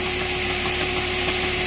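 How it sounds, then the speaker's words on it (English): A power drill turns at slow speed, boring into a seized wheel stud. It gives a steady, loud, unbroken whine with a constant grinding hum throughout, and no one speaks. "Now, the drill is set on its slow speed."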